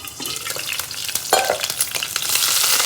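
Dried red chilies hit a hot pan and sizzle sharply, with a burst of crackling and stirring scrapes that builds into a bright, steady frying hiss up close.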